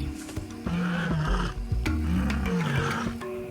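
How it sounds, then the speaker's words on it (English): Big cat roars, deep and throaty, sounding close and loud with rumbling tonal growls that rise and fall over a few seconds, layered calls overlapping with no speech. "A big cat's ability to roar."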